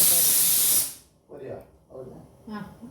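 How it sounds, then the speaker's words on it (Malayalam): A loud, rushing hiss of escaping steam blasts for about a second, then cuts off abruptly as people start talking nearby. "അടുത്ത വിസിൽ അടിക്കുന്നതിന് മുമ്പ് നിർത്താം."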